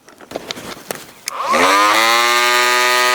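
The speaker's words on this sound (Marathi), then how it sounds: "मशीन एकदा चालू होते का आपण पाहू पाहून घेऊया" The engine of a chickpea-plucking machine starts after a few sharp clicks and pulls, then catches into a loud, steady, close-up drone that holds to the end.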